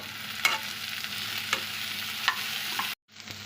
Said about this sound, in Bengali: এবার মশলাটা দিয়ে ভালো করে কষিয়ে নেব